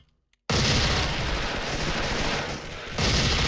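Dual Platinum MP9 submachine guns firing in a shooter game: after a brief silence, a loud, sustained rapid-fire burst rattles close by for about three seconds, easing briefly before continuing.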